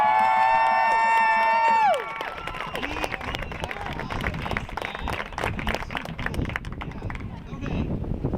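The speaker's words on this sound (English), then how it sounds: "can we give a big round of applause to Carl?" Crowd at an LGBT equality march bursting into applause and cheering after a held tone cuts off, dense clapping with whoops and shouts, loud and close, continuing for several seconds.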